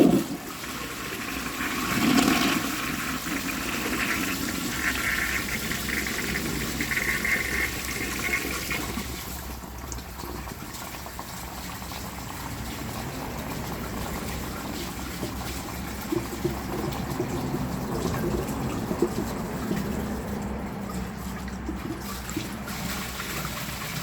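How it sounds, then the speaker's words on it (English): A 1935 Standard Siacto toilet flushes a grocery bag with a washcloth on top, giving a rushing gush that settles into a long, steady trickle and slow water churn heard close by. "Yeah, that definitely clogged."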